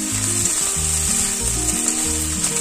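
Already-fried shrimp being stirred in a hot pan for a Bengali lau chingri (bottle gourd and shrimp) dish, giving a loud continuous sizzle over a low steady hum, close and without speech.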